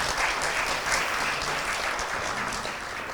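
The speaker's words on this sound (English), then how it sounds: "please give them a round of applause for the insightful discussion" Conference audience applause at a symposium on ASEAN-Japan friendship, a broad, sustained wash of many hands clapping that stays strong and even, easing slightly toward the end, with no voices over it.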